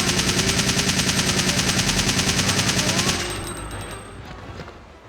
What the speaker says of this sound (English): Just going to go ahead and open fire.